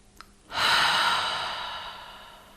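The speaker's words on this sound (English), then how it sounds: "We'll end with one deep breath." A single deep breath during a relaxing acupressure session for the head and face, drawn in sharply and then released in a long, breathy sigh that fades out slowly, close and alone.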